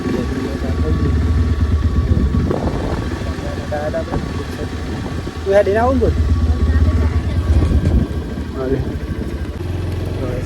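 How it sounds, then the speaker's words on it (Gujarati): A motorcycle engine idles and runs steadily with a low rumbling throb, close by, while people talk over it. "જો બાઇક ચાલુ દીધી તો આપણે જઈશું મિત્રોમાં"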